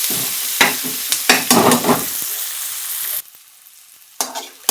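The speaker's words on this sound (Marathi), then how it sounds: "कांदा लाल झाला त्यामध्ये आता मी टोमॅटो टाकून घेते। टोमॅटो चांगलं परतून घ्यायचे" Tomatoes sautéing with onions in a pan, loud sizzling broken by bursts of stirring and scraping, then a brief quieter stretch before the sizzle and stirring return.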